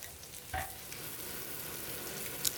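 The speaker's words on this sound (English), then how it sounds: "As your squirrel is frying, you'll want to pat it down firmly with a spatula." A whole squirrel, flattened with a spatula, sizzles steadily as it fries in a pan, a continuous hiss with one brief sharper crackle burst and a small pop near the end, no voices.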